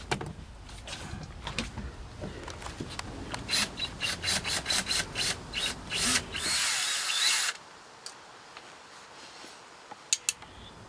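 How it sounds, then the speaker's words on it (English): Four screws being removed from the shifter of a 1968 Ford Mustang with a power driver, a series of short close whirring bursts followed by a longer run, then quiet with a couple of small clicks. "there's 4 screws here, and we're gonna have to take those out"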